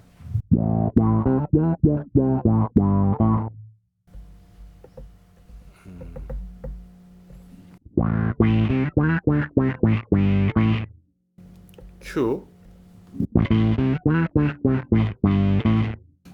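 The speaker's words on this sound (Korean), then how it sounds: "게이트 퍼즈의 드라이브 양을 바꿔볼 수도 있습니다" Gritty, fuzzy synth bass with gate fuzz distortion playing short pulsing notes in bursts, separated by quieter gaps; a brief spoken word appears in one gap.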